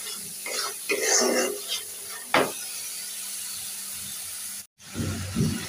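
Spice masala frying in a pan while being stirred, giving a soft sizzle with a few scraping strokes and one sharp knock, then a quieter steady hiss after a brief dropout.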